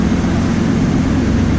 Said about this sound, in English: And the noise you're hearing, I have my truck warming up out here.